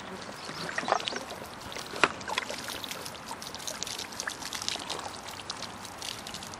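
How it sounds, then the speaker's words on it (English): Water is poured into a band instrument with the mouthpiece removed, splashing and trickling steadily, a bright gurgling pour with small irregular splashes throughout, close by. "First we take out the mouthpiece, and then pour in some of the water."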